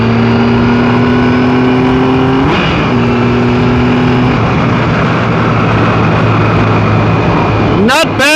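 A 2017 Triumph Tiger 1200 motorcycle engine droning loudly at steady speed, then pulling harder after a downshift, with a rising whine near the end under constant wind rush.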